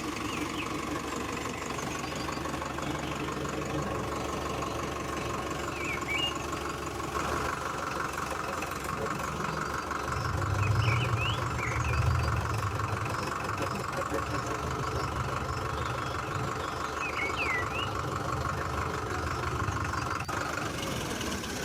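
A mini tractor engine chugs steadily at idle in a wheat field during sowing, with a brief low rumble swelling partway through and faint bird chirps above the continuous drone.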